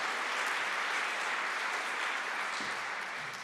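Sustained applause from a Calgary audience, a dense, even roar of many clapping hands holding steady throughout with no talking.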